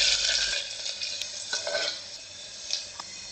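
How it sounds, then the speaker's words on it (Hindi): The white part of onions frying in a pan, giving a soft, steady sizzle with light stirring scrapes and a few faint utensil clicks. "थोड़ा सा प्याज का व्हाइट पार्ट लेंगे और इसको हम हल्का सा ब्राउन होने तक फ्राई करेंगे।"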